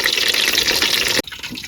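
Water pours steadily into a cooking pan for about a second, filling with a bright gushing splash before stopping abruptly, leaving a quieter background.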